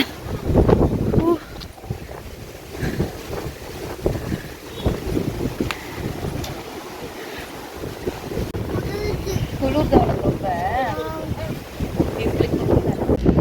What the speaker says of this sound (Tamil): காற்று நல்லா சில்லு சில்லு சில்லுன்னு அடிக்குது